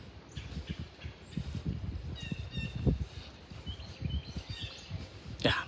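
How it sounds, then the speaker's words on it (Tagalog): Small birds chirp faintly in a winter city park, with thin, scattered calls over soft footsteps, rustling and low outdoor noise. "Kinig tayo sa mga ibon."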